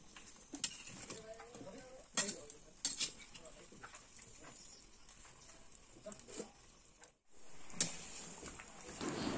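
Metal spoon scraping and clinking against a pot in irregular bursts as meat with ginger-garlic paste is stirred, with faint background noise and a brief pause before the stirring resumes.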